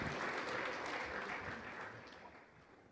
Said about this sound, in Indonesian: Oke, baik, beri tepuk tangan Bapak Ibu.